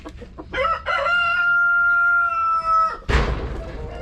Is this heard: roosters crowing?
yes